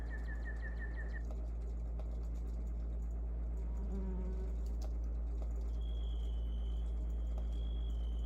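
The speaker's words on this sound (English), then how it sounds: "And then I had like cicadas and flies and frogs," Swamp ambience layer with cicadas, flies and frogs, made as a bed for a song: a steady low rumble beneath faint insect buzzing and chirping, with brief high whistling tones early on and again near the end, with no voices.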